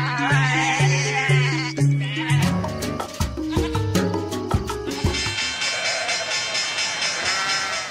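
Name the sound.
goat or lamb bleating hidden in El Cuarteto de Nos albums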